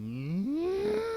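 A person imitates a cow with a single drawn-out, rising moo, loud and close, for about a second, alone without other talk.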